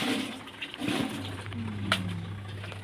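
A new home washing machine churns and spins with a sloshing, whooshing rush of water over a steady low motor hum, fairly close and without talk.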